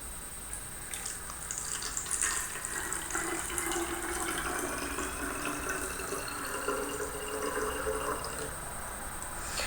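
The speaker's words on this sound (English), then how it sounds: "take your purified water that you have here and pour it into it." Purified water pours steadily into a pomegranate container for a lucky bamboo cutting, a continuous close splashing and trickling that rises slightly in pitch as it fills.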